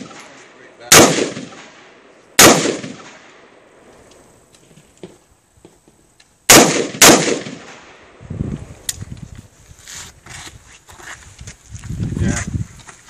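Four or five sharp, loud gunshots from an IROC tactical firearm at an NTOA event, spaced irregularly over several seconds with quieter handling sounds and some murmured talk between and after the shots.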